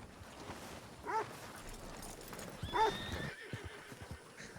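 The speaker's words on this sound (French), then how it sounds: "Attends, c'est mon cheval." A horse in the video game Red Dead RP whinnies twice, with faint clip-clopping hooves between and after the neighs against a quiet outdoor background.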